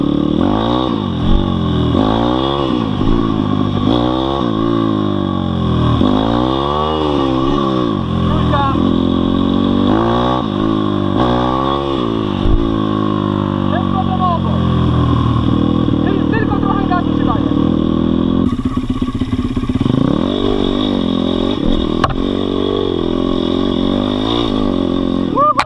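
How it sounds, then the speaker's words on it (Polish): An MRF 170 RC-U motorcycle accelerating hard while being ridden, its engine revving up and down in repeated rising sweeps through the gears, close and loud, with a rider talking over it in places. "Wystarczy dodać gaz i sam motor leci."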